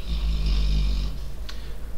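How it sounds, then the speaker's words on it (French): A female dog snores close by, with one long rumbling snore followed by a short snort, heard alone in a quiet room. "c'est ma chienne qui ronfle. Un vrai tracteur."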